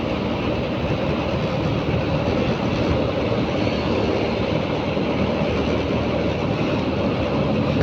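A motorcycle rides along the road on a trip from Montalban, Rizal to Quezon City, giving a constant roar of engine and wind rush with no gaps or talk.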